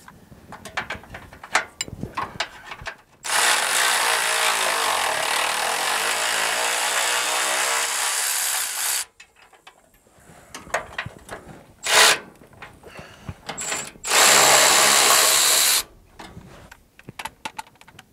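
Loud, continuous power-tool whirring, likely an impact wrench, removes bolts from the front bumper of a Pontiac GTO restomod. A long run of about six seconds is followed by scattered clanks, one short burst, and a second sustained run.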